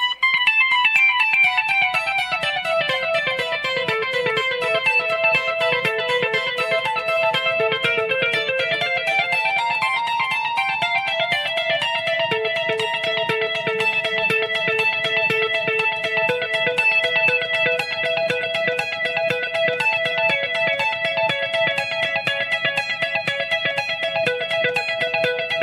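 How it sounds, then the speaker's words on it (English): Clean electric guitar played through a Fractal FM9 with a 375 ms delay, sustained notes layered with repeating echoes in a continuous wash, steady and fairly loud with no talking. "So that's just a clean sound with a delay setting set to 375 milliseconds"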